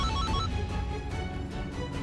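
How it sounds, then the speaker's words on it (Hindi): A phone rings with a steady electronic ringtone, continuous and moderately loud throughout, with no talking over it. "पुष्पा जी, आपके फोन से आवाज आ रही है ये?"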